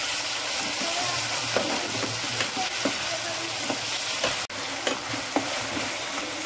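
Ginger garlic paste frying with onions in oil in a kadai gives a steady close sizzle, with a few scraping stirs and clinks running through it and no talking.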